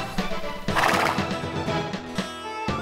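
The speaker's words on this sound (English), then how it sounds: "there's a horse right there!" A horse whinnies loudly over steady clip-clopping hooves in the video game Boot Hill Heroes: The Hangman's Ballad, with a crash-like thud near the start and a sharp hit at the end; no talking.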